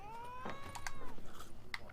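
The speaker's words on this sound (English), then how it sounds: "That cat's meowing again." A cat in the video game The Witcher 3 lets out a faint, drawn-out meow, followed by a few soft clicks and thumps, all quiet and without talk.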